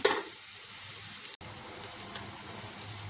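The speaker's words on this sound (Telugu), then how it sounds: "ముక్కలు వేసేసుకుందాం బీరకాయ ముక్కలు వేసుకొని కలుపుకుందాం" Ridge gourd pieces sizzle in a hot pan with turmeric as they are stirred, a steady close frying hiss with a brief break midway and soft scraping, no talking.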